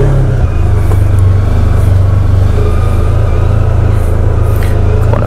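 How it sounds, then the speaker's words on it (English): A Polaris Ranger 1000 EPS side-by-side with a 1000cc engine climbs a hill in two-wheel drive. Its engine gives a steady, loud, close drone throughout, with no talk. "Plenty of power in the 1000cc engine. Climbing the hill, two-wheel drive."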